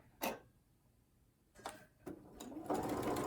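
A sewing machine stitches along a drawn diagonal line while chain piecing fabric, sounding in short separate runs with pauses between, the last burst longer and steadier, close and moderately quiet.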